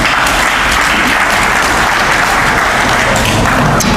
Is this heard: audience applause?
yes